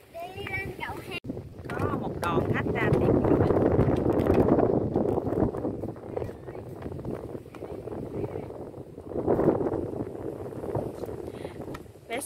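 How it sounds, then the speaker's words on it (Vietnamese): Strong wind at a large wind farm in Bac Lieu, Vietnam, blows steadily and roars loudly across the microphone, with surging gusts near the middle and end, while people talk throughout. "gió là thổi liên tục luôn"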